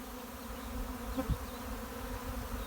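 A swarming honeybee colony buzzes in a soft, continuous drone, a dense humming mass heard at low volume with a brief knock partway through.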